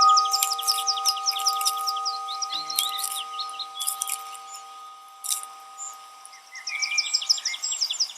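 A small Clark's nutcracker gives rapid trains of sharp, high chirping calls in several bursts with pauses between, over a faint steady tonal hum.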